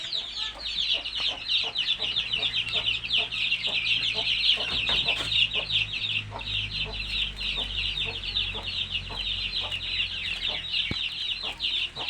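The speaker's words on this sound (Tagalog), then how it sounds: "Bisitahin natin yung manok." A flock of large farm chickens clucking steadily and busily at feeding time, a dense, continuous chorus of close, overlapping clucks with occasional louder squawks.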